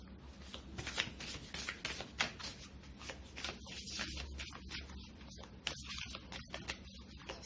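Tarot cards are shuffled and laid down close up, with a run of soft riffling patters and light slaps that continue throughout the clip, quiet and without speech.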